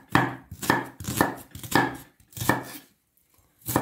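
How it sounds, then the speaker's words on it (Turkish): A knife chops onions steadily on a board, about six firm, evenly spaced strikes with a brief pause near the end, loud and close, no voices. "Önce soğanlarımızı tenceremize doğrayacağız"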